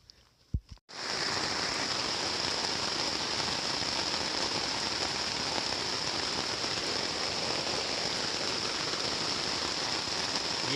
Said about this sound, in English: Yeah, you could say it's raining.